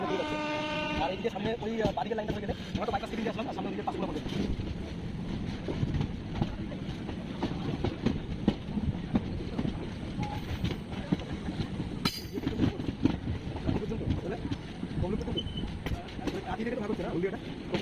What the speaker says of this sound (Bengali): আমাদের ট্রেন লাইন থেকে বের হয়ে এখন হলদিয়া মেন লাইনে উঠছে